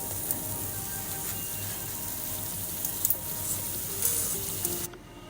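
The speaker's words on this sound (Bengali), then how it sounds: "আমার চিকেন পাইগুলো ভাজা হয়ে গেছে" Chicken pies frying in hot oil, a continuous hiss and crackle with a few sharp pops and faint utensil touches, cutting off abruptly near the end.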